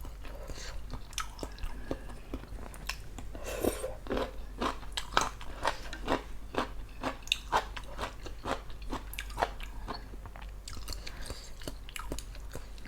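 Crispy food crunched and chewed with a bowl of Ubon-style kuay jab noodle soup, a close, loud run of sharp bites and crackling chews repeating steadily in an irregular rhythm throughout.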